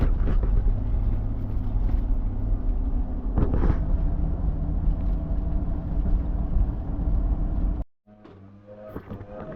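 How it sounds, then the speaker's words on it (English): A car driving on the road between customer jobs in Plano, heard as a steady low rumble of engine and road noise inside the vehicle that cuts out abruptly near the end, leaving quieter sounds. "We're gonna drive 20 minutes to Plano to our next customer"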